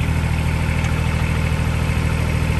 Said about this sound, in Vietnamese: Thì đó, cái động cơ.